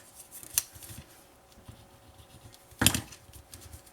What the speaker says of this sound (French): Je biseaute le côté large ici, à partir du pli seulement.